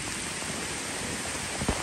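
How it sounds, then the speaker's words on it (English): Steady rain pours down during lawn mowing, a dense even hiss with a faint thump near the end and no talk. "I like when we get rain."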